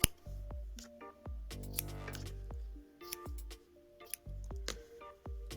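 Scissors snip repeatedly at close range while trimming a small handmade mummy figure, with a quiet steady run of sharp clicks and short snips and no talk.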